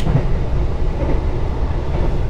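The Taksaka panoramic passenger train runs steadily on rails, a continuous low rumble and rolling roar from inside the carriage, with no voices.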